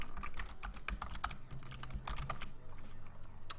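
Rapid, uneven clatter of keys on a computer keyboard, with bursts of clicks and brief pauses as someone works through copying and pasting, close and alone with no voices.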